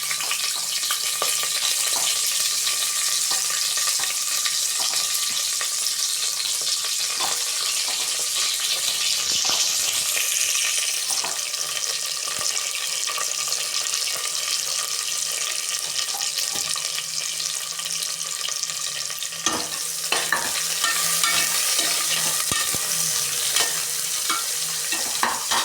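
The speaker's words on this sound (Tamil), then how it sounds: "சால்ட்டு போட்டுட்டு வதக்கலாம், அப்போ தான் சீக்கிரமாக வதங்கிடும்." Sliced onions sauté with salt and whole spices such as star anise, cloves and poppy seeds for vegetable biryani, giving a continuous close sizzling hiss with a few scraping stirs and no talking.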